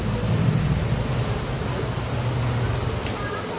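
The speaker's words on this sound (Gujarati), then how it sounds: "ખાસ વરસાદ આવે હ." Heavy rain falls steadily with rumbling thunder through a monsoon downpour, a dense, continuous roar close around, with a voice faintly heard beneath it.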